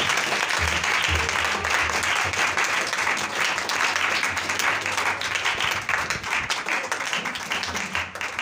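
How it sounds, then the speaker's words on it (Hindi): Lively applause at a gathering where gifts are handed out, dense close clapping throughout, with a low murmur of voices underneath and the clapping thinning slightly toward the end. "अंकल हमीद गिल, जोरदार तालियों के साथ।"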